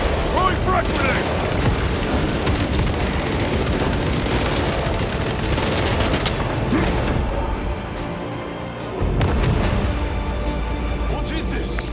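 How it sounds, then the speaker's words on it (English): Warhammer 40K: Space Marine 2 combat roars with a frag grenade blast and sustained heavy gunfire, loud and dense, with mechanical clanks and a brief lull before the firing resumes. "Throwing frag grenade!"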